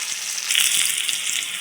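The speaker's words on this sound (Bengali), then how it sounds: "ওই তেলে আমি ভেন্ডিটা দিয়ে দিলাম ভেন্ডিটা লাল করে ভেজে নেব" Okra frying in hot oil in a pan, a bright, close, continuous crackling sizzle with brief popping spurts, heard alone.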